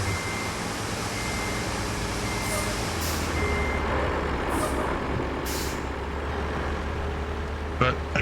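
A massive dump truck in the construction game Roadcraft idles with a deep diesel drone while air brakes hiss in several short bursts and a reversing alarm beeps faintly in the background.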